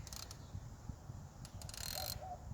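A ratchet wrench clicks faintly a few times while turning on an engine's EGR part, giving short, quiet mechanical ticks over a low background rumble.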